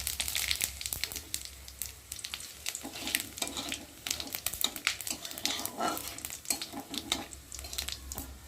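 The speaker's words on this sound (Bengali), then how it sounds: "কড়াতে তেল আছে, ওই তেলের মধ্যে গোটা জিরে আর একটু শুকনো লঙ্কা ফোড়ন দেব।" Cumin seeds and dry red chillies crackle and sizzle in hot oil in a wok, a steady dense spatter with sharp pops throughout, close and fairly loud, no talking.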